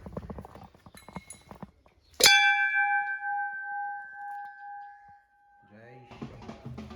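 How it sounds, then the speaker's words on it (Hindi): A temple bell at a Shiva shrine during the Mahashivratri Kanwar Yatra is struck once, giving a sharp clang and then a long, clear ringing tone that slowly fades, with people talking before and after. "घंटा बजा देते हैं।"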